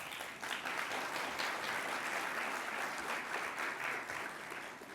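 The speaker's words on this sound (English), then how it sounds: "So let's give Neera another round of applause." An audience at a national award announcement breaks into sustained applause, a thick, even clatter of many hands that swells briefly and then tapers slightly toward the end.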